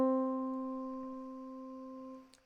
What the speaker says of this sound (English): So middle C, being right in the middle, sounds like this.